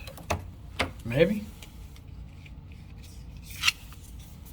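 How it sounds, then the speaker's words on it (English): A hotel key card is slid into the electronic lock of a room door at a Holiday Inn Express in Princeton, Indiana, giving a few short, close plastic scrapes and clicks, ending in a brief electronic beep, with a voice briefly speaking nearby. "Let's get one of these keys to work."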